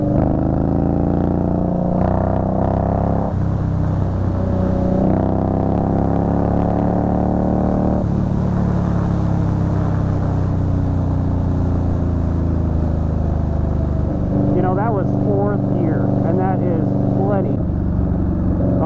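A 2020 Indian Scout Bobber motorcycle loudly accelerates, its engine rising through the gears in sustained climbing pitch sweeps with a brief drop and another rev near the end, heard close throughout.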